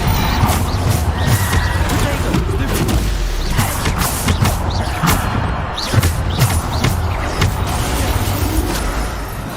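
Depulso, a force-push spell in Hogwarts Legacy, goes off amid a busy combat mix of repeated sharp impacts and bangs, with other spells fired in quick succession.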